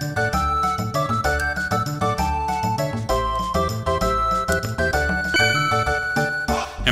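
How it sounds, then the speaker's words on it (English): Chrono Trigger's bell rings in bright, repeated chimes over a busy, tinkling melody, loud and continuous, with a cluster of ringing tones layered throughout. "Press the A button while facing the bell."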